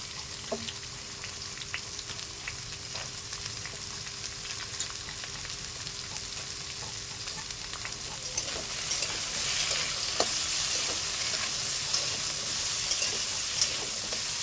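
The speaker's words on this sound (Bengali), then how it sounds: "খুব ভালো ভেজে নেব।" Squash, carrot and beans sizzle steadily in a pan, a soft continuous frying hiss with occasional stirring scrapes that grow a little louder toward the end.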